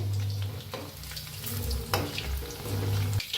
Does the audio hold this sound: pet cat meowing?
no